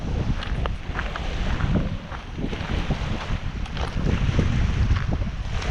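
Cold wind blowing off the water by a shore near a seaplane airport, gusty buffeting rumble against the microphone over a steady wash of surf, with no voices.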